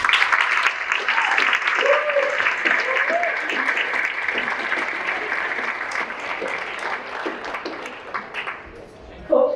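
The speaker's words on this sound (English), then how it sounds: "Let's give a big round of applause to Coach Penn." Audience applause at a varsity sports banquet, a steady dense round of clapping from a crowded room that holds for most of the stretch, with some voices mixed in, then tapers off toward the end.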